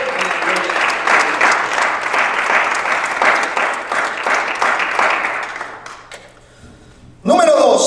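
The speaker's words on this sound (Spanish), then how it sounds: "Fuerte el aplauso." Loud, dense applause from a church congregation fills the space for about six seconds, then fades into a quiet gap before a voice begins speaking.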